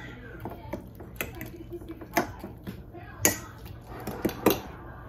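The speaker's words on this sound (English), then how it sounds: "Maybe I should stir these real quick" A utensil stirs food in a pot during weekly meal prep, giving a few sharp scattered clinks and scrapes against the metal at irregular intervals, fairly close, over a quiet kitchen background.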